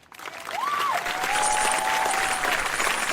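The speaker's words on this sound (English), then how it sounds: "Yeah, round of applause." Steady applause from a crowd fills the clip, with a brief whistle-like tone rising early on over the clapping.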